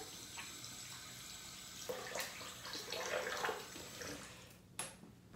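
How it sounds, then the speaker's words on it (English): A bathroom tap runs water during a wet shave, with splashing as water is brought to the face; a steady hiss with louder splashes midway and a sharp splash near the end, no talking. "let's get a little water on the face"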